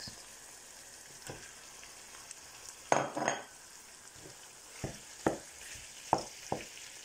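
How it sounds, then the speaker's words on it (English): Spinach is added to a pan of yam and garden egg sauce, giving a soft, steady sizzle broken by a few sharper stirring bursts and scrapes, close by, with no talking. "now time I add the spinach"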